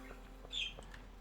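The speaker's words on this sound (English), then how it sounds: "And we've got the birds in the background here." Bird chirps in a Stardew Valley farm game scene, a few short high calls and squawks over a faint steady background hum, quiet and brief.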